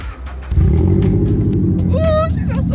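A Subaru BRZ / Scion FR-S engine cranks briefly and fires up, settling into a loud, steady idle rumble close by, with a short voice-like tonal chirp near the end.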